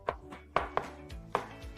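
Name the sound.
knife slicing mushrooms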